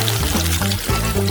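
Potato smiley faces deep-frying in boiling oil give a steady, dense sizzle that runs close and loud throughout, with no talking.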